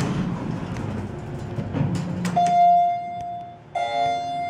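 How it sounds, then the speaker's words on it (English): A Westinghouse traction elevator at a parking garage sounds a loud, clear arrival chime, a sustained tone that rings twice, the second strike following about a second after the first fades, over low background hum. "Chime is nice and loud."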